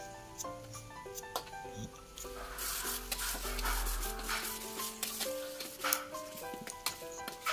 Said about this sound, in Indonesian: diaduk-aduk sampai dia berubah warna ya, sampai dagingnya berubah warna